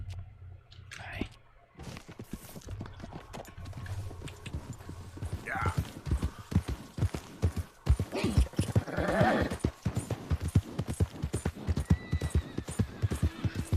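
Horse hooves clip-clopping in a steady rhythm with several whinnies and neighs in Red Dead Redemption 2, the hoofbeats growing louder and denser toward the end over faint ambient game sound.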